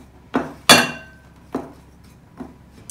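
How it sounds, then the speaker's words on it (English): Spoon or whisk knocking against a bowl while stirring dry pudding ingredients with dark brown sugar, four separate clinks spaced unevenly, close and clear with no talk. "give this a nice stir to start incorporating all these different dry ingredients"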